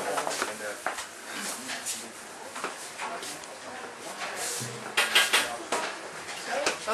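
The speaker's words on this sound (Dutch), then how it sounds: "Ze mag even helpen met kip snijden voor de satéetjes." Chicken is cut for satay in a busy restaurant kitchen, with knife and utensil clatter, clinking dishes and scattered thuds under ongoing background talk and activity.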